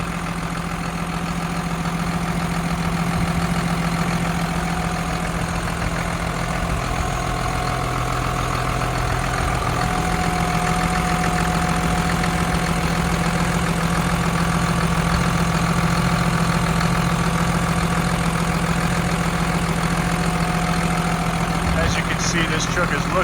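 A 2017 Hino 268A 26-foot box truck with a 7.6-liter J08E diesel engine idles close by in a steady, even drone with a low, knocking hum. A person talks over the engine noise.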